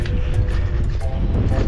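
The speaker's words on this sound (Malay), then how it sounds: "Angin kuat je." Strong wind gusts across a microphone on an African cycling trip near Amboseli, a steady low roar with rumbling buffeting that continues throughout.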